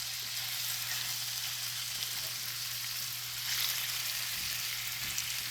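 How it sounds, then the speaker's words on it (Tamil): Marinated prawns frying in hot coconut oil for a Kerala-style prawn fry, a steady, soft crackling sizzle throughout with a low hum beneath and no talking. "இப்போ பாருங்கள், எண்ணெய் நல்லா காஞ்சிடுச்சு. இப்போ அது எறாவை போட்டுக்க வேண்டியதான்."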